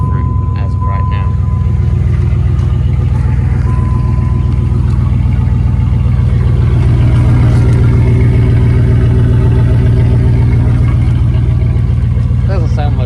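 A pickup truck engine idles loud and steady with its muffler cut off, a deep uncovered rumble holding for the whole stretch while someone talks over it.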